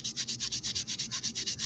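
Polymer clay faux gemstone sanded by hand, a steady back-and-forth rasping with about fourteen even strokes, close and fairly quiet, no voices.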